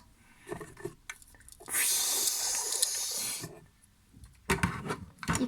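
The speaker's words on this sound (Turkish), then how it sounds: "Önce mısırımızı güzelce bir yıkıyoruz" Corn is rinsed under running tap water, a steady hiss of flow lasting about two seconds between quieter handling rustles and scrapes.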